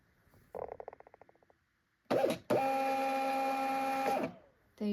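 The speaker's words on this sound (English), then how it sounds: "We're going to try printing it." A Jadens thermal label printer at work: a short rapid ticking burst, a pause, then a steady mechanical whir of printing lasting about two seconds, close and clear with no talk.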